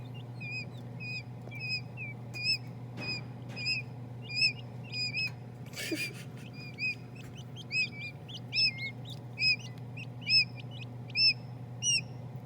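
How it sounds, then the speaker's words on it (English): High, thin peeps from a quail chick still inside its egg repeat steadily in short bursts over a constant low hum. A brief rustle interrupts them partway through. "Is that the baby in the shell noise?"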